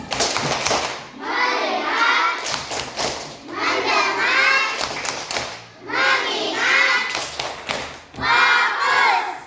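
A classroom of Indonesian schoolchildren performs the tepuk fokus clapping routine, with bursts of rhythmic group clapping and chanting voices in repeated sections separated by short pauses.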